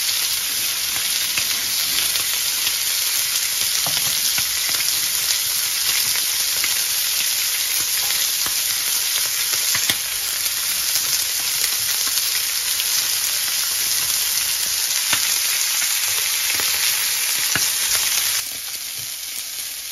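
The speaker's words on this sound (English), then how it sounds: "I'm going to fry the onions on the griddle pan as well" Onions fry on a griddle pan in a steady, loud, close sizzle that hisses continuously with faint crackles throughout, easing slightly at the very end.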